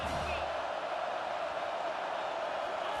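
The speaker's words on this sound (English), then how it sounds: "Decibels rising as the crowd gets behind this defense on third down." Football stadium crowd roaring for the defense on third down in a tight South Carolina versus Georgia game, a dense, sustained wall of cheering noise with no break.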